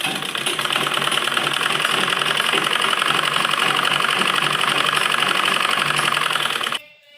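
A sewing machine runs continuously, stitching the side seam of a kurti with a fast, steady mechanical whir and rattle close by, then stops abruptly near the end.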